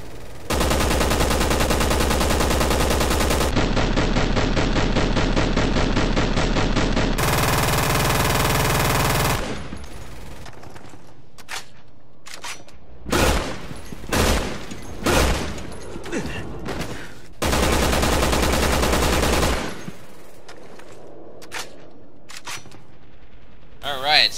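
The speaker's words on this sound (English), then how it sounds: "this looks like it's probably the heaviest firing machine gun in the game" Special-tactics assault rifle firing in Resident Evil 6, long sustained full-auto bursts of dense, loud machine-gun fire, then a stretch of separate sharp shots and mechanical clicks before another long burst.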